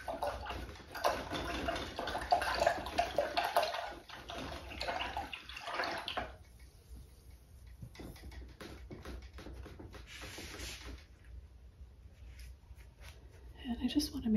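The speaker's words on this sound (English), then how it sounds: "I'm going to rinse my brush out now." A paintbrush is swished and rinsed in a water pot, producing close, soft sloshing and swirling for several seconds, followed by quieter dabbing and a brief splash near the end.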